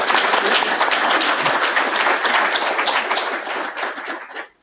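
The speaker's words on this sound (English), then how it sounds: "Little round of applause here," A room of attendees at a professional section meeting breaks into a full round of applause, dense continuous clapping held for several seconds before tapering off abruptly.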